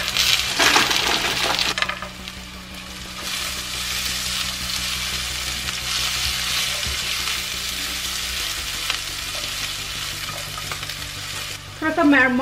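Onions and cashews fry in oil for pulao, a strong sizzle opening with a burst as they hit the pan, then settling into a steady hiss with stirring clatter and a metallic clink near the end.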